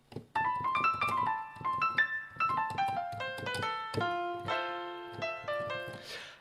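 Piano notes sound thin and bright, lacking low end and warmth, in a short melodic run of single notes and chords, fairly quiet.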